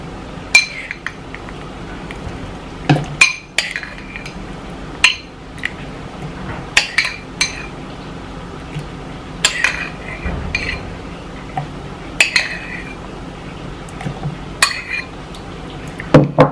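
Metal spoon clinking and scraping in a dish while scooping soaked dates with a little water, a series of sharp, close clinks at irregular intervals over a quiet background.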